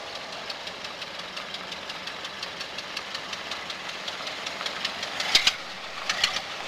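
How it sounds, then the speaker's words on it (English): A car engine with a manifold problem runs steadily nearby with a rough, rhythmic knocking, a few louder sharp raps near the end. "Here comes Bill with a manifold problem"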